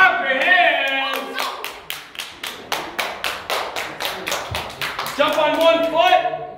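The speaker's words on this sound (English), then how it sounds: "Clap your hands." Children clap their hands in a quick, steady rhythm of about a dozen sharp claps during a VBS group activity, with voices and singing at the start and end around the clapping.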